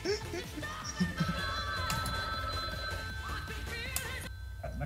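Telephone ringing during a gaming session, a steady electronic ring tone running under busy background noise and people talking.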